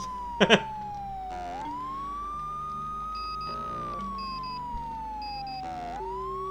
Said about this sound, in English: It's sampling the siren into the music